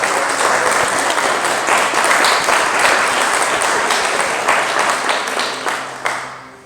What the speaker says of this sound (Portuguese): Você pode aplaudir Ele por isso?